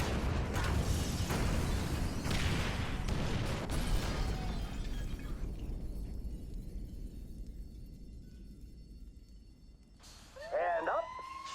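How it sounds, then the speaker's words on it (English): Incendiaries detonate in GTA V, a heavy, rumbling blast that rolls on for several seconds before fading into quiet hiss, followed by a rising siren wail near the end. "Detonate the incendiaries, Frank."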